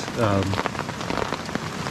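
Heavy rain in a wilderness area pours down as a dense, loud, continuous hiss, with a brief voice-like tone near the start.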